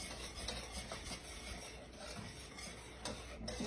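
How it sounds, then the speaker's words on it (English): Sugar and butter are creamed together in a bowl for brownies, making a steady, close gritty scraping and rubbing with repeated stroke rhythm and a few sharper knocks. "I'm just gonna get this sugar and butter cream together"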